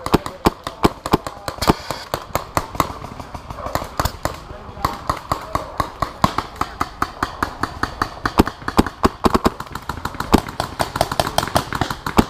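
Rapid gunfire during a Living Legends airsoft or paintball game, with sharp repeated shots cracking in quick irregular bursts, close and loud, and people talking in between.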